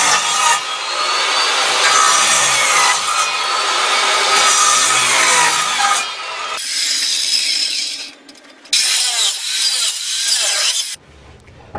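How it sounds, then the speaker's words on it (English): A homemade device prying wooden planks off a pallet, giving loud continuous creaking, scraping and splintering of wood that breaks off abruptly at several points, close by and with no talking. "I built this type of device to remove planks of wood from a pallet"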